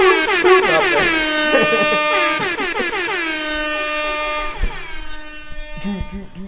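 A loud, blaring air horn sounds repeatedly in long harmonic blasts, with brief breaks between them and a few shorter honks at the end.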